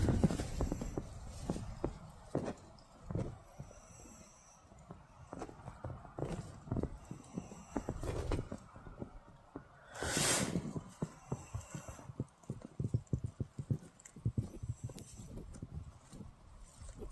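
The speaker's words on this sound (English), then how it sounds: "Sounds like something's outside, walking about." Something walking outside at night in a windy forest: scattered, irregular thudding steps at a distance, mixed with gusts of wind and rustling, with no talking.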